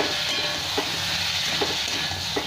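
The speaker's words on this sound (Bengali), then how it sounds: "ওই জিরে বাটাটা দিয়ে দেবো" Ground cumin paste hitting a hot pan while cooking a Bengali fish curry with ridge gourd and potato, a steady sizzle and hiss with a few soft stirring scrapes, no talk.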